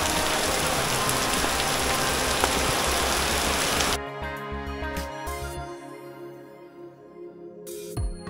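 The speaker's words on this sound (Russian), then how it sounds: "приятно посидеть в домике, слушая дождь" Steady, dense rain in the Borneo jungle along the Kinabatangan River hisses loudly for about four seconds, then cuts to a much quieter backdrop with faint scattered drips and taps.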